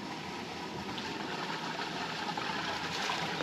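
Gray water steadily draining and trickling from a broken sewer hose outdoors, a continuous low rushing wash with no pauses.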